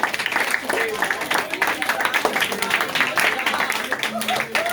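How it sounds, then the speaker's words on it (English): Audience applause for sixth and seventh grade student debaters, a steady wash of clapping from a crowd that runs throughout, with voices mixed in over it. "let's give all of our scholars a round of applause"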